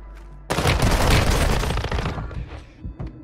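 A sudden, dense burst of gunfire from a close-range gunfight in Warzone Mobile, loud rapid automatic shots crowding together for about two seconds before tapering off into scattered quieter shots.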